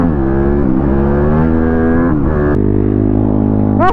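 A YCF 155 supermoto prototype engine revs hard on a race track, a loud close buzzing whine climbing in pitch through gear changes, with a brief drop before pulling up again.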